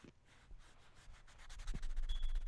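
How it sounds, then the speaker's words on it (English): Something scratches and rubs across a material like chamois or speaker enclosure fabric, a quiet, close rasping that repeats several times and grows louder toward the end. "It sounds like a scratch off."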